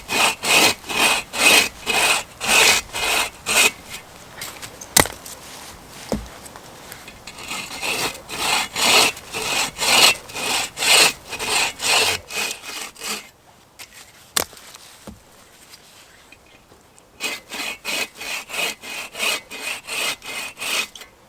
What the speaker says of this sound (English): I'm not going to bore you with all the sawing